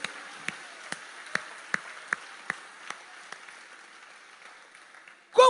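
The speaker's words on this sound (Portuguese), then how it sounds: "Pode aplaudir Jesus." Slow, regular claps from a church congregation sound faint and distant, fading gradually before a sudden loud noise at the end.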